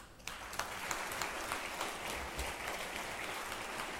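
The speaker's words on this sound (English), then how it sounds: "Give them the biggest rousing applause" Dense, sustained applause from a large audience at the PSG IMSR 2018 graduation ceremony, starting abruptly after a brief quiet moment and holding steady and loud through to the end.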